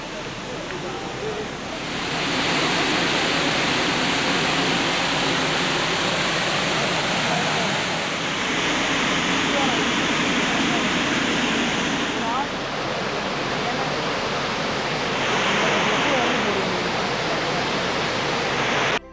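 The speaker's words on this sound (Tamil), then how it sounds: "அப்படியே அந்த ஃபாரஸ்ட்குள்ள நடந்து ஒரு வாட்டர் ஃபால்ஸ் போனோம்" A forest waterfall at Kolukkumalai roars as a steady, dense rush of falling water, loud and close, swelling and easing slightly as the listener moves, with occasional voices beneath.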